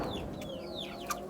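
Young chickens about one to two months old clucking and chirping in a coop setting, a steady close chatter of soft calls with a few higher peeps, no talk over it.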